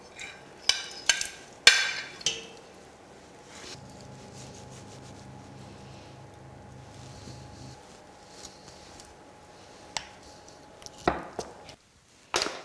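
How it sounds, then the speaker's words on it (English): A knife cutting cooked ham off the bone for pea and ham soup, with close scraping, tapping and a few sharp knocks against a board, and quieter gaps between them. "we just keep cutting away until all the meat's taken off the bone"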